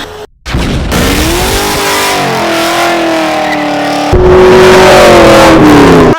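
A 6.0L Trans Am V8 revs hard on a dyno, the loud engine note climbing steadily through a long pull, then jumping sharply louder and higher after a brief shift-like break.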